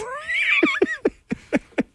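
Angry cats caterwaul in a long rising and falling wail, then break into a series of short, loud, sharp yowls and spits spaced about a quarter second apart, close by with no voices.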